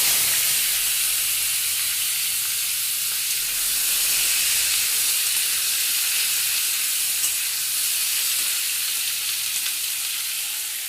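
Chopped, washed vegetables for a Bengali mixed veg curry hit a hot pan and sizzle steadily, a loud continuous frying hiss that holds evenly throughout.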